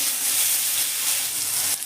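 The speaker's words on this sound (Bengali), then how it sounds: "ওই তেলেই আমি এবার আলুগুলোও কিন্তু ভেজে নেব।" Potatoes frying in the same hot oil just used for frying colocasia, a steady broadband sizzle that stays loud and even throughout, with no voices.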